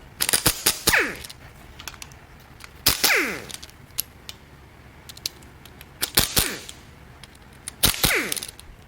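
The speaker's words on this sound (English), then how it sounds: "I'm going to go ahead and break the bolts loose that hold the cam gears and phasers onto the cams" Sharp loud ratchet or impact-tool bursts break loose the cam gear and phaser bolts on a blown Infiniti Q50 VR30DDTT 3.0 twin-turbo V6 during teardown, four clustered bursts spaced about two to three seconds apart.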